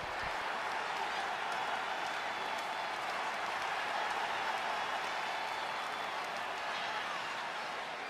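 A virtual arena crowd in the wrestling game WWE 2K20 cheers and applauds in a continuous, loud roar that holds steady throughout.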